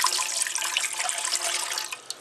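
Water poured from a measuring cup into a bread machine pan for sandwich bread, a steady close splashing trickle lasting a couple of seconds and tapering off at the end, with no talking.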